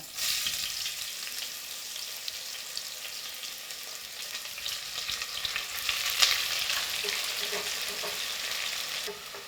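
Two sliced onions, red or white, sizzle steadily in hot oil in a pan for a rice-and-peas pilau, a dense close crackle with a brief stir, no talking.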